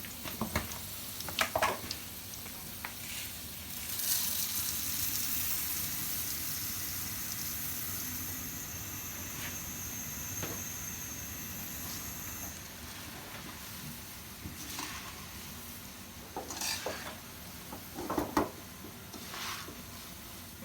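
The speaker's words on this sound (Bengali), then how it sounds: "মুড়ি ভাজিটা আগে করে নিই।" Puffed rice (muri) fried in oil at home on a rainy afternoon gives a steady broadband hiss and sizzle for most of the stretch, with intermittent clinks and scraping bursts near the end; no one speaks.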